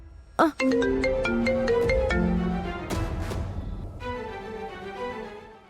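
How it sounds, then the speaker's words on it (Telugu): A phone ringtone plays a bright electronic melody of repeated tones, loud and close, with brief noise and a short burst partway through. "కర్ణ ఫోన్ రింగ్ అవుతుంది"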